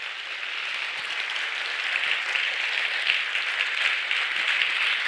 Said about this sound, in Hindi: give a good and the best clap offering to the Lord